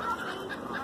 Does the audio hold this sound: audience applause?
no